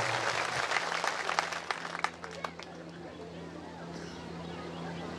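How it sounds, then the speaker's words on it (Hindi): Audience applause at a religious divine court gathering in a village, with broad clapping noise spread across the clip, louder in the first half with sharp individual claps, then steadier and softer, with a low hum underneath and some crowd voices. "जोरदार बजाओ ना ताली"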